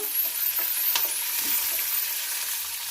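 Dried red chillies frying and spluttering in oil in a pan while cooking mint chutney, a steady close sizzle with scattered sharp pops and crackles throughout.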